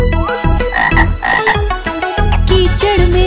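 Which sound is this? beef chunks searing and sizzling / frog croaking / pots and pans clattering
frog croaking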